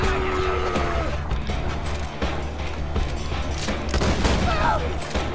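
Shotgun blasts and chaotic combat in Borderlands 2 boom repeatedly and loudly, with crashes and mechanical clatter filling the whole stretch.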